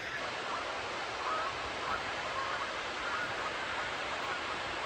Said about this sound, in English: serenaded by the geese